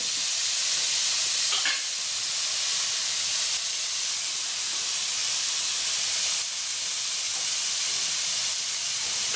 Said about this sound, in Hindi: मेरा मसाला फ्राई हो चुका है, स्टफ के लिए मसाला तैयार है।